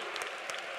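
A congregation at a church prayer meeting claps in praise: a brief, fairly soft, dense patter of many hands heard from a distance.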